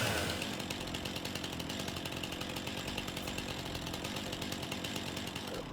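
Chainsaw cutting logs in the video game Farm Sim, a continuous buzzing engine whine held steady and loud from start to finish, with no talking.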